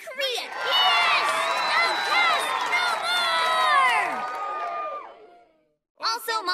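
A middle school crowd in a cartoon cheers for Libby, a loud sustained roar of excited voices lasting several seconds, then fading to silence before a voice speaks.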